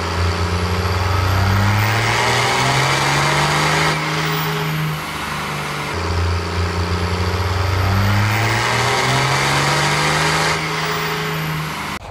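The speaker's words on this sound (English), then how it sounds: "So I'm gonna get the dyno started and get ready to do the next pull." A Cummins diesel engine with a 54mm turbo revs hard on a dyno pull, its loud roar climbing steadily in pitch, dropping back, then climbing again in a second long sweep; no talking.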